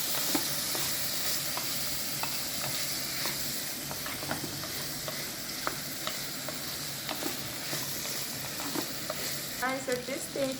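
Cubed potatoes fry for beet soup, a continuous sizzling hiss broken by repeated scraping stirs of a utensil in the pan, moderately quiet with no talking.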